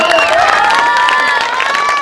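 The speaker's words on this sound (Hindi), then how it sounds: "जोरदार ताली हो जाए" An audience at a Chhath Ghat village drama stage show claps and cheers loudly, with shouting voices rising over continuous applause during a garlanding ceremony.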